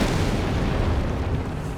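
A Stuka artillery barrage in Company of Heroes 3, heard as a continuous dense roar of overlapping explosions and rumbling booms, steady and loud throughout with no distinct pauses.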